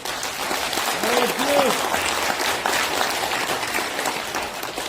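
Sustained applause from a large audience at a religious ceremony, a steady wash of clapping throughout, with a voice briefly audible beneath it.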